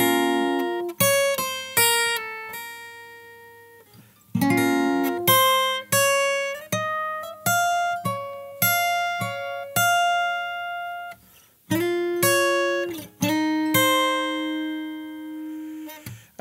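Fingerstyle acoustic guitar plays a riff, quick plucked runs with sliding notes and brief gaps between phrases, heard up close with no voice.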